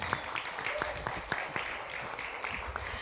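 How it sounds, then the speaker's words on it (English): A round of audience applause at a Selichot concert, fairly faint and distant, steady clapping from a modest crowd with a few sharper individual claps standing out and some voices in the background. "Can we let's give each section its own round of applause"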